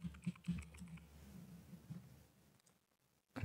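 Computer keyboard typing an item name, a quick run of close, soft key taps that thin out and stop near the end.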